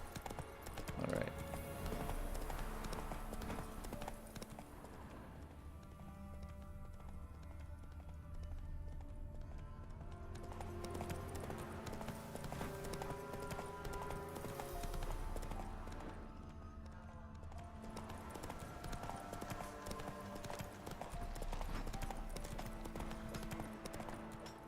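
Roach, a horse in The Witcher 3, gallops in a steady clip-clop of hooves under game music and ambience. A faint snort or whinny is also heard.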